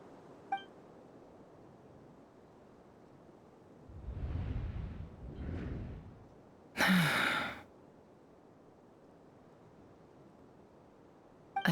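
Yehoda, a character in Genshin Impact, gives a soft, breathy gasp, heard as two short airy breaths close together in a quiet scene, followed by a brief sharper burst of noise.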